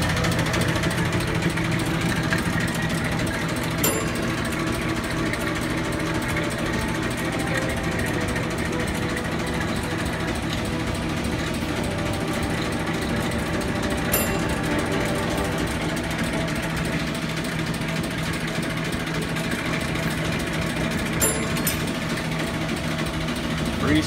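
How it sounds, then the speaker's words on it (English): An old gas pump engine runs steadily and close by, a continuous mechanical chug with a few faint sharp clicks at intervals and no speech over it. "What a beautiful pump. Sounds beautiful."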